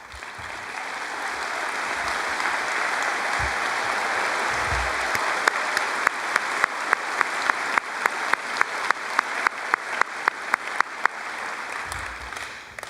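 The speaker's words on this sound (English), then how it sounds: "could you please stand up and face the audience for a round of applause" A large audience applauds at a high school graduation ceremony in Chaska, with steady, dense clapping from a crowd heard at a distance and sharper individual claps standing out in the second half.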